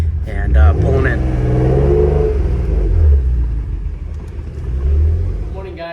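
A Honda NSX on its stock exhaust pulls in, its engine a low rumbling drone with slight swells as it creeps closer, heard steadily near the microphone under someone talking.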